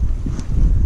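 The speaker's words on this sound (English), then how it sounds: "it is a bit windy" Wind gusting across a microphone on an estuary shore at Lelant, a brief, loud, low buffeting rumble with no voices.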